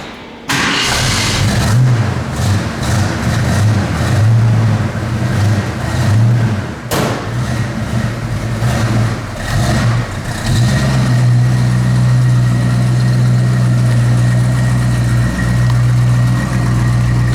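A 1969 Ford Mustang Fastback engine cranks and fires up, then settles into a loud, steady, rumbling idle with a brief stumble partway through, close to the listener, outdoors on a windy day.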